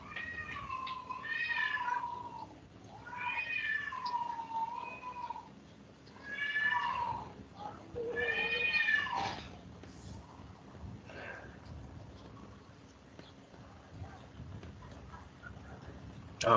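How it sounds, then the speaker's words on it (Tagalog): Cats yowling and meowing in a fight downstairs, several drawn-out wailing cries rising and falling over about ten seconds, then fading to quieter background, heard from a short distance indoors. "Nag-aaway yung pusa sa baba."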